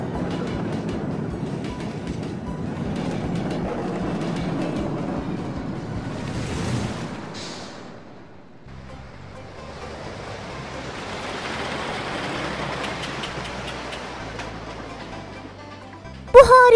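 A cartoon amusement park train ride rattles along with rhythmic clacking, then fades to a softer rolling rumble with a splashy wash, ending in a sudden bright burst.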